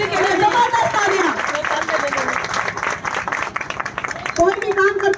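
Audience applause and cheering fill a hall celebrating the 22nd anniversary of Maa DTM, a steady, fairly loud wash of clapping with voices and tonal sounds mixed in, swelling again near the end.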